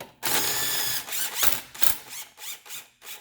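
A ratchet with a 12 mm socket loosens a bolt on the engine of a 2016 Subaru WRX STI, giving loud, close bursts of rapid clicking in uneven strokes, with short pauses between them.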